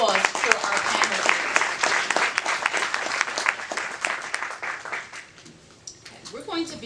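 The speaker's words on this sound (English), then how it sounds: "Let's give one big round of applause for our panelists." Panel audience applauds at an education discussion, a dense sustained burst of clapping that thins out and fades near the end, with a voice starting to speak over the tail.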